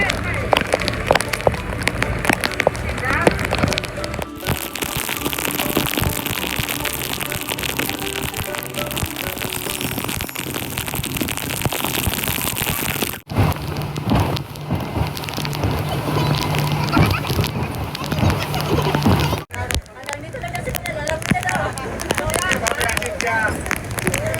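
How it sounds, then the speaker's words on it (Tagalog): Heavy rain pours down on Jin Island, Sai Kung, in a dense, continuous roar, loud and close, with occasional voices speaking beneath it. "Lakas ng ulan."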